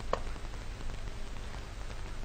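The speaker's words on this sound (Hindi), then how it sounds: "कहीं हल्की और कहीं तेज बारिश जारी है" Rain falling in Karachi, light to heavy, heard as a quiet, steady hiss of drops on surfaces with a faint tap near the start.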